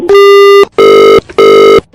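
A telephone line tone after a dropped call: three loud, steady electronic beeps of about half a second each, separated by short gaps, heard alone.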